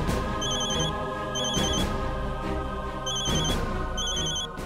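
Telephone ringing in repeated bursts of bright, electronic-sounding tones, about three rings within a few seconds, steady and fairly loud over a dense music-like background.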